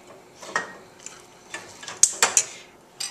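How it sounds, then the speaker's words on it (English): Spoon stirring cornstarch into a fruit glaze in a pot off the heat, a quick series of scraping clinks and taps against the pot, close and fairly loud, with no talking. "So I'm just going to stir it in just like that."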